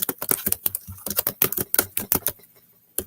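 Rapid typing on a computer keyboard, with dense clusters of sharp key clicks in an uneven rhythm, heard up close and fairly loud, tapering off to a few last taps.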